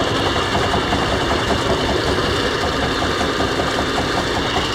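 Tiger Shark RC boat with a straight-shaft motor running steadily, a continuous close electric whine and buzz throughout with no pauses or talk.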